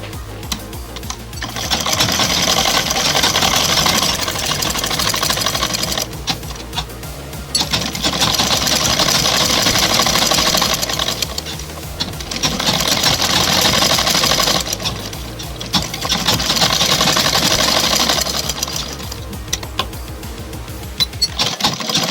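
A sewing machine stitches the folded cuff of a kurta sleeve in four sustained runs of rapid, even needle clatter, separated by short pauses, close and steady throughout.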